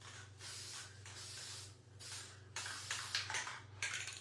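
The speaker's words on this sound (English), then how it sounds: "And then we're going to spray it one more time." A spray can sprays paint onto honey jars in a series of close hissing bursts, a few longer sprays followed by shorter quick ones, with no talking.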